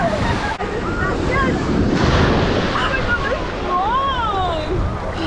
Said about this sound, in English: these waves are coming in